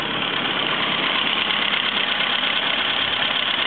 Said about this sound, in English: Let it tick over so it'll harden the exhaust.